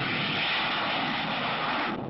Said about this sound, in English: they can send jet interceptors into the sky toward the enemy